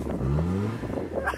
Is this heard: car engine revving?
yes